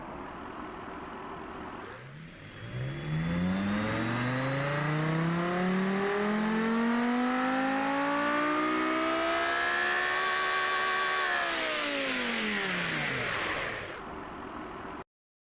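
Car engine in the game Automation revving up from idle through a long smooth rising then falling sweep, loud and sustained, settling back to idle at the end.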